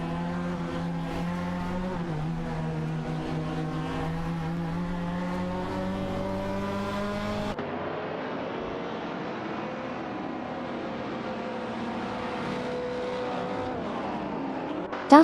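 Race cars including a Porsche 904 and a Shelby GT 350 drone in a video game race, a steady high engine whine that shifts pitch abruptly midway, with a brief tire squeal at the end.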